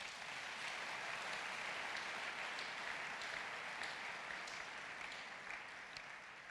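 A church congregation applauds in sustained, dense clapping that fills the room evenly, somewhat distant and steady for several seconds, with no voices over it.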